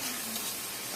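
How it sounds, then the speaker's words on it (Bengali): Salt being stirred into browned onions frying in a pan, a steady close sizzle with faint scraping throughout, no voices. "লবণ দিয়ে লাড়াচাড়া করতেছি"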